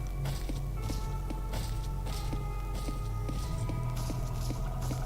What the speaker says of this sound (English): Gotta listen for his footsteps and listen to his voice.